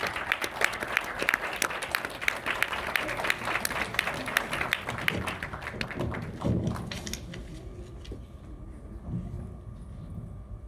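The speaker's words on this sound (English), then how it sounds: "Please give her a big round of applause." An audience at a women's awards ceremony gives a round of applause, steady crisp clapping that thins out and fades after about seven seconds, leaving quiet room noise.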